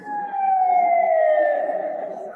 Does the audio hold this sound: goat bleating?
no